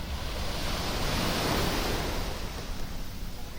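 Sea waves wash onto a beach in Magaluf in a steady, broad surf roar that swells slightly in the middle before easing, close and continuous, with no voices.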